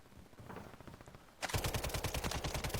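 Gunshots in Call of Duty: Warzone, a fast automatic burst of loud, evenly spaced shots erupting after a quieter run of distant firing.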